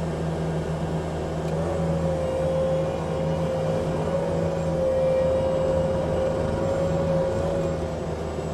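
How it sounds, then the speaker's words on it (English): A 2018 Bobcat T770 skid steer idles steadily while unhooking its bucket via power quick attach, a constant engine drone with a faint rising and falling hydraulic whine over it. "Go ahead and unhook the bucket."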